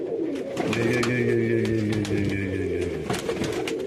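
A marbled crested Baku pigeon coos nearby in a loft. Several rolling, throaty coo phrases run back to back over a few seconds, with faint background rustle.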